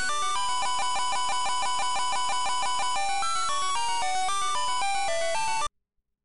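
Loud, busy chiptune music from the video game For the Frog the Bell Tolls, with steady pulsing beats and bright layered melodies that stop abruptly near the end.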